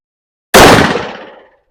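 A PSA Rock pistol fires a single round of 5.7x28 ammunition, a sharp, loud crack that bursts in abruptly and trails off in a ringing echo over about a second.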